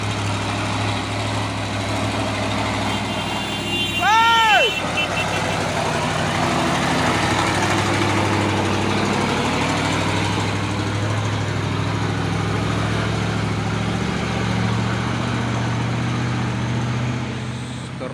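A brown Fuso truck failing on an uphill climb and rolling back fast, its heavy engine droning steadily throughout, while a person shouts once early on.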